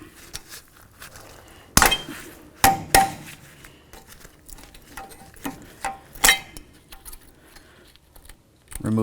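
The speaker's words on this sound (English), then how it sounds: "I'm going to use some cutters." Cutters snip a part off the front lower control arm of a 2007-12 Dodge Caliber, giving a few sharp, close metallic clicks spaced over several seconds amid quiet handling noise.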